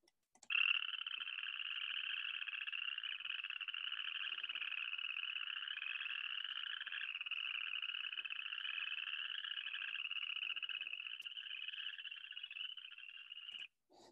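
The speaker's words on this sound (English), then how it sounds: "And then you have the chorus frog." A chorus frog gives a long, continuous rising trill, loud and close, running steadily for over ten seconds with no other sounds.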